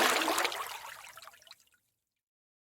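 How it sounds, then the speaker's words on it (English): A fish rising on a lake to snatch a freshly hatched mayfly on a hot early-June day, heard as a close splash and wet spatter that quickly trails off into silence. "The splash of their take can be heard and identified"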